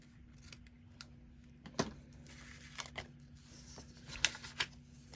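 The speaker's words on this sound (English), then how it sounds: "if your ribbon tends to be too long, you can always trim that too" Scissors snip ribbon in a few sharp, quiet cuts at a craft table, with soft rustling and handling of paper and ribbon around the cuts.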